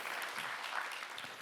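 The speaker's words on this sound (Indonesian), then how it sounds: "Berikan tepuk tangan buat Tuhan Yesus saudaraku." A church congregation during a sermon claps together in a brief, steady burst of applause, moderately soft and slightly distant.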